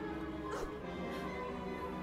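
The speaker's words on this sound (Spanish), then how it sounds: "¡Oh, llega el perro!" A dog in a Minecraft-themed live-action film gives faint barks and yips mixed into a busy background of hums and noise.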